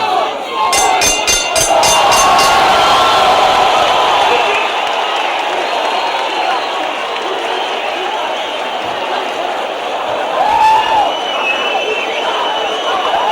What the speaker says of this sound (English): a standing crowd showing their appreciation